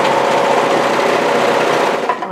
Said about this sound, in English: all I'm doing is just going to run my overlocking off